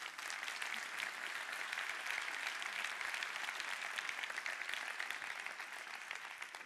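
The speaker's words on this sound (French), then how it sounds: "Alors on les applaudit encore une fois." An audience at a French corporate awards ceremony applauds, a dense, sustained wash of clapping from a sizeable crowd that holds steady throughout without pause.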